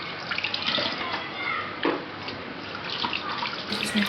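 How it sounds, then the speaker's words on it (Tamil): Boiled jalapeño pickling water strained and poured into a container, a close, uneven liquid splash and trickle with a few brief surges, running for a few seconds. "நான் அதை வடிகட்டி இதில் ஊற்றிக்கிறேன்"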